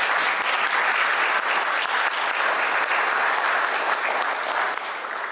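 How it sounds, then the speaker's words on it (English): A seated audience at an evening presentation on citizens' rights and official duties claps steadily for two people asked to stand, dense even applause filling the room without a break and easing slightly at the end. "Let's give them a round of applause."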